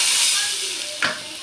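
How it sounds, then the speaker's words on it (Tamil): A loud, steady sizzling hiss fills the whole moment, with one brief sharper burst near the end, as water is poured into hot oil while cooking eggplant. "இப்போ தண்ணி ஊற்றிக்கலாம்"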